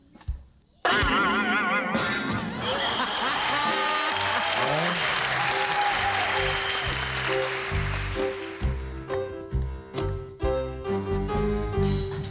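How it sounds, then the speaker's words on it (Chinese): A television variety show studio audience bursts into loud, sustained applause that swells and holds for several seconds, then thins into scattered claps as voices and music cues come in over it. "掌声鼓励哦，这么厉害！"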